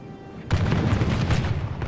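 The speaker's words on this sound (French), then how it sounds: "J'entends plein de coups de feu" Dense gunfire in the Call of Warhammer game starts abruptly after a quiet moment, a loud rumbling barrage of overlapping shots and booms that sustains to the end.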